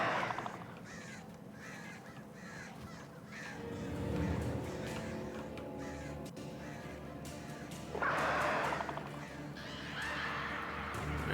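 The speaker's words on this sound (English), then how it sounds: "that's a lot of crows" Crows caw repeatedly in the video game Alan Wake, a harsh flock of calls rising in bursts over a dense, noisy game soundscape with low rumbling ambience.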